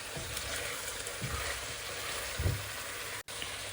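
Spices and masala roast in oil in a pan for aloo chicken, giving a steady broadband sizzle with a few stirring bumps and a brief dropout near the end; no one speaks.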